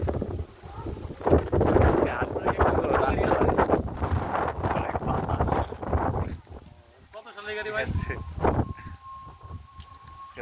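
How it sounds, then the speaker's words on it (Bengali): Strong outdoor wind buffets the microphone in heavy, uneven low-pitched gusts that ease off briefly near the middle and return, with a person talking through the rumble. "প্রচুর পরিমাণে বাতাস"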